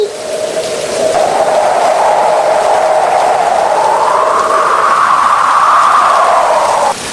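Steady rain falls on a rainy day, a loud, continuous wash of drops that runs unbroken for about seven seconds with no voices over it.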